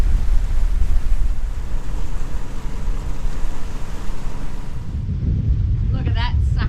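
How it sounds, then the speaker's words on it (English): Short, sharp sea waves break against a sailing boat doing 8 knots, with current running against the wind. Heavy wind buffeting and rushing water roar throughout, and a voice briefly comes in near the end. "they're not really big waves, they're just really sharp, and hence they're breaking with the current going against the wind"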